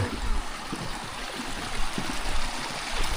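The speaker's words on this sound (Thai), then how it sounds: "จะมีน้ำไหลลงมา" Water rushes steadily down a stream crossing a forest trail in Phu Hin Rong Kla National Park, a close, continuous splashing flow with no clear voices.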